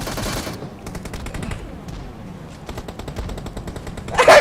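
Rapid automatic gunfire in the PUBG Mobile battle royale game, sustained bursts of machine-gun fire rattling throughout, with a louder close burst near the end.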